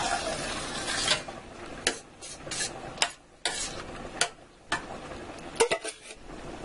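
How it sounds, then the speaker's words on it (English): Puttanesca sauce stirred in a pan, with a utensil scraping and clinking in irregular bursts over a steady low sizzle, close and moderately loud, with no talking. "Stir that around."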